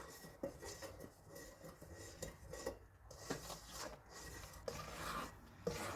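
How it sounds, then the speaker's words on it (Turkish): A spatula folds tahini cake batter in a bowl with a soft scraping, tapping rhythm, scraping from the bottom up and occasionally knocking the sides, close and fairly quiet. "Ve spatula ile Şöylece karıştıracağım"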